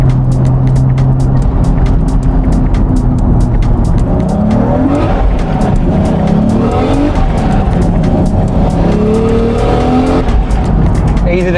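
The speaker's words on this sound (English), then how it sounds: "As you can see, I can drive this car pretty normally with no fuss at all." A Toyota JZA80 Supra fitted with a UniClutch drives on the street, its engine rising and falling through gear changes with some tire noise, loud and continuous throughout.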